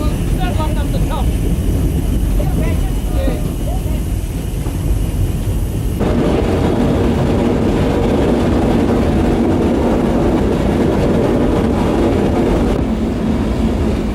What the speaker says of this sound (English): Flying Scotsman here alongside the steam-hauled train